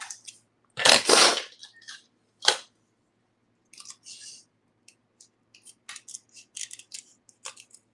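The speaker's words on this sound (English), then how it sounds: "now let's cut out" Scissors snip through paper while cutting out paper flowers for a craft hat box: one long close crunching cut, then a second short cut, followed by a run of small, quieter clicks and snips.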